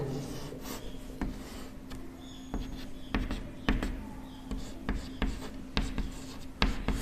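Pen or chalk writing out a chemistry molarity problem, with a steady scratchy rasp broken by sharp taps and strokes at an irregular rhythm, close and fairly quiet, with no talking.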